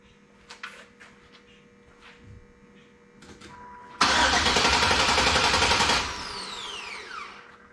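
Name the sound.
LS-swapped Impala SS engine cranking without starting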